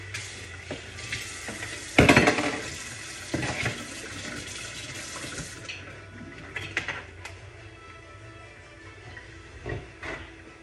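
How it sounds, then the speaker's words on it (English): Food is rinsed under a running kitchen tap while salad is being made. The water rushes and splashes steadily, with a sharp burst near the start and light clattering as the food is handled. There is no talking. "We're just going to rinse this again real quick."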